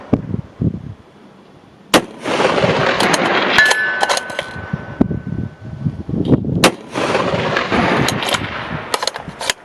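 Sharp, loud rifle shots from a Remington 700 in .308 with a 16-inch barrel and a loose scope base ring out, with gusty outdoor noise filling the gaps between the cracks.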